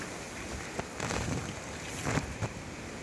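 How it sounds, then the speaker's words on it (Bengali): Steady patter of rain falling, with a few louder splashes and a soft gusty hiss underneath, fairly close and continuous. "বৃষ্টি পড়ছে।"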